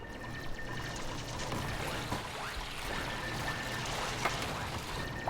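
Water spilling and trickling in the colony game Oxygen Not Included, a steady faint pouring wash with small drips running under a quiet background hum throughout.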